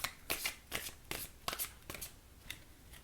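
A deck of oracle cards is shuffled by hand in several quick riffling bursts, each a crisp flurry of card edges, recorded up close with no talk.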